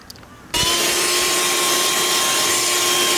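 A vacuum cleaner starts abruptly after a quiet moment and then runs with a loud, steady roar and whine while cleaning the interior of a Holden Commodore.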